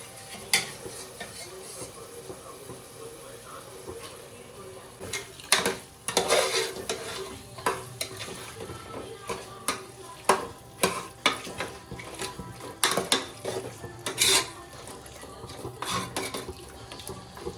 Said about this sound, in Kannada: ಈಗ ಬೇಯಿಸ್ಕೊಂಡಿರೋ ಮಟನ್ಗಳನ್ನ ಹಾಕೊಳ್ತಾ ಇದ್ದೀವಿ.